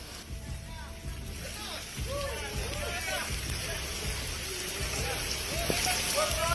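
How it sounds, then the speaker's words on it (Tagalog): Heavy rain pours steadily in Mahatao, Batanes, as men haul a sunken fishing boat toward the shore, a continuous broadband wash that runs under a voice talking throughout. "Sa kasagsagan ng ulan"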